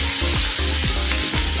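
Chopped onions hit hot oil in a pan with a steady, bright hiss of sizzling that fills the short moment, even and close with faint scraping underneath.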